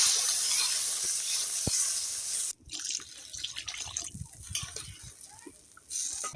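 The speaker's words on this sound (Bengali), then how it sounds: "এবার আমি জল দিয়ে দেবো।" Water poured into a pan of fried elephant foot yam being cooked as a village-style curry, a steady rushing pour that stops abruptly, followed by bubbling, crackling simmer sounds, close and without talk.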